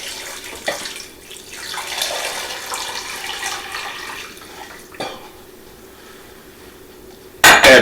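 About four cups of water poured from a container into a cooking pot in a home kitchen, a steady splashing pour that tapers off, followed by a short loud burst at the end.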